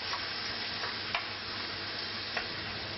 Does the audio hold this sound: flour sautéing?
yes